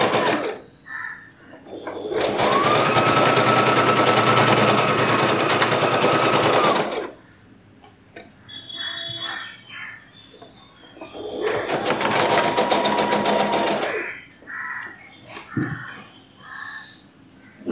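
Sewing machine stitching a strip onto a blouse: two long, loud, rapid rattling runs of the motor and needle, separated by quieter handling noises and short pauses.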